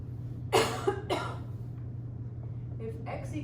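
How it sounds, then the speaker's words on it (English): Two or three harsh coughs from a man teaching an algebra lesson, close and fairly loud over a steady low hum, followed by a quieter stretch. "this is not a good time to get a cough"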